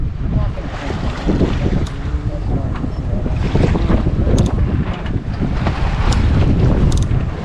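Strong wind roars steadily across the microphone aboard a performance sailing catamaran racing off Zihuatanejo, Mexico, loud and continuous with water and hull noise beneath, and no clear talk.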